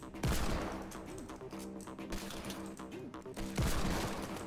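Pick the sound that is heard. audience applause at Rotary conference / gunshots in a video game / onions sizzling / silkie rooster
gunshots in a video game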